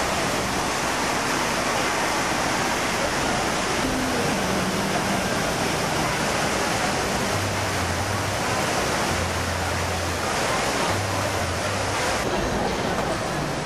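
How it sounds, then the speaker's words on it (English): Fountains at Rockefeller Center in New York City rush and splash in a constant loud wash of water noise, with faint city sounds mixed underneath. "Wonderful fountains, as you can see here, and hopefully you can hear me above them."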